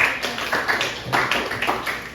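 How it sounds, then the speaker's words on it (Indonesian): A classroom of students in a biology lesson claps briefly for a classmate, a short, uneven patter of hands close by. "Tepuk tangan buat Nurul Arus."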